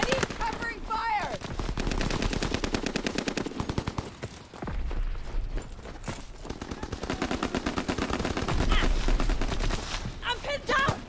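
Rapid automatic gunfire bursts from the Call of Duty World at War 2 multiplayer game, dense machine-gun fire with overlapping shots and brief lulls, loud and continuous across the scene, with faint voice chatter beneath.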